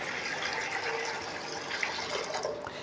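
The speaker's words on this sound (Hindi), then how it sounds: "सबसे पहले इसमें 1 लीटर ये पानी डाल दूंगा" One litre of water poured from a vessel into a wok on a medium flame while making dal khichdi, a soft continuous gushing splash at low volume with no talk over it.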